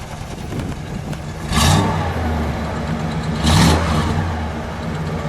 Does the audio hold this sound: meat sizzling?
no